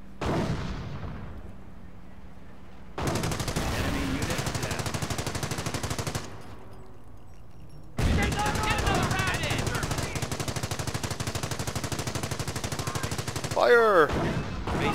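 Rapid machine-gun bursts and artillery fire strike a base in Company of Heroes, dense rattling volleys broken by short lulls, with a louder crash near the end.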